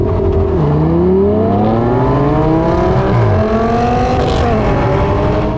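An Audi R8 V10 launches hard in a drag race against a Viper, its loud engine note rising through several gear changes with brief dips between shifts, continuous and close with no talking.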